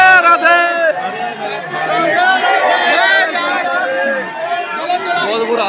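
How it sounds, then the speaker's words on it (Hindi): A dense crowd at a Holi celebration in Barsana fills the air with loud, continuous chatter and overlapping voices, close and steady throughout. "देखो इतनी भीड़ पड़ी है यहाँ पे"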